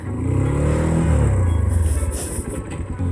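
Honda XR 150L motorcycle pulling away, its loud close engine rumble rising as it revs off, then fading as it moves away.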